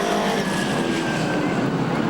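Pro stock race cars roar around Seekonk Speedway, a steady loud engine drone filling the whole stretch with a continuous broad rumble and no pauses.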